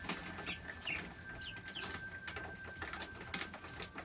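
Four-week-old Sapphire Gem chickens in a coop make soft, faint peeps and clucks in short scattered bursts over a quiet background hum.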